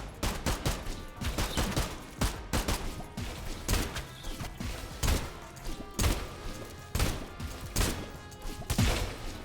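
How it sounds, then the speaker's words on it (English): Gunfire in the video game Sulfur, a loud, dense barrage of close shots in quick irregular bursts. Heavy thuds mix in, and the firing continues throughout. "Four shots."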